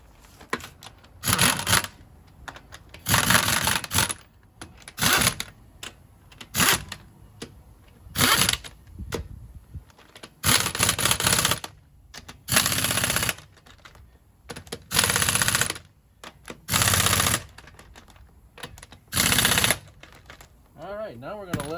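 Impact wrench working the lug nuts on a 2009 Dodge Caravan during a tie rod replacement, about ten loud rattling bursts of one to two seconds each, separated by short pauses, close by.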